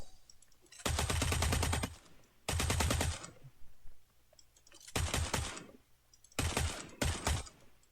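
Bursts of automatic gunfire in a video game, four separate rapid volleys of close, loud shots with brief quiet gaps between them and no talk.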